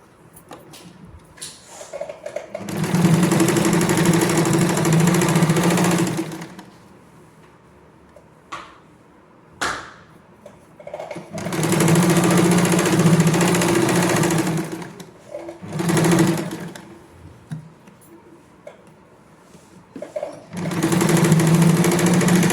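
A sewing machine runs in three long stitching bursts and a couple of short ones, sewing the crotch seam of girls' shorts. The loud close motor whir alternates with quiet pauses and small handling clicks.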